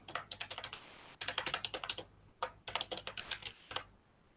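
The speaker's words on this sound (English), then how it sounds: "I'm just going to type sudo." Rapid bursts of typing on a computer keyboard, close-miked with crisp individual keystrokes in several quick flurries separated by brief pauses, no voices present.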